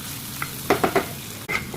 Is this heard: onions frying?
yes